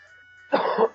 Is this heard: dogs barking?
no